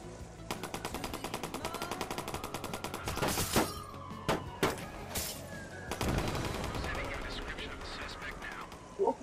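Rapid automatic gunfire rattles in long fast bursts during a drive-by shootout from a car in Watch Dogs 2, loud and close, with a few heavier single shots and impacts and players talking over it.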